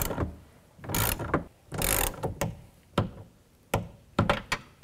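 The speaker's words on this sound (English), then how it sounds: "Now I'll tighten these nuts up." A hand ratchet tightens nuts on a rear window regulator of a 2000-2006 Chevy Tahoe, giving close, loud clicking bursts in uneven spurts with short pauses between strokes.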